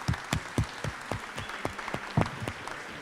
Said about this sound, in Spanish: Quiero invitarlos a darles un fuerte aplauso para despedirlos.